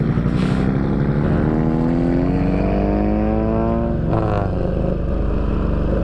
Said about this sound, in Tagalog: Honda Civic Type R na bulabog din po